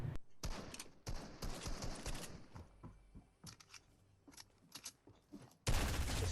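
Rapid bursts of gunfire from the video game Fortnite, with sharp repeated shots clustered in volleys and short gaps between them, loud and close, ending in a dense final burst.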